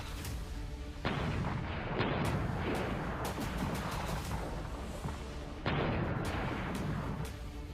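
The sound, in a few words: explosions and gunfire on the Pakistan-Afghanistan border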